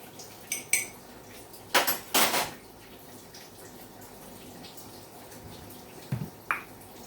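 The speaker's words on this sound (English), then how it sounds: "Pass a little tin pot, then I go get it to put in some water." A small tin pot is handled in a quiet kitchen, with a few sharp metallic clinks and knocks scattered across the moment and faint watery trickles in between, close and soft against a calm background.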